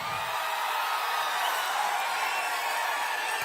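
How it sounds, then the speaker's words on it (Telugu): A large crowd at an outdoor political rally claps steadily, a dense, even wash of applause holding at full strength from start to finish with no pauses. "చప్పట్లు బాగా మోగుతున్నాయి."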